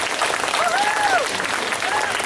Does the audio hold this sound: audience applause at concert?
yes